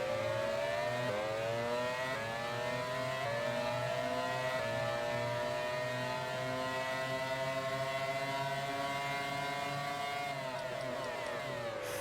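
Racing car engines scream in the Grand Prix 4 PC game, a loud sustained high whine with rising and falling pitch as the car shifts through gears, alone with no voices.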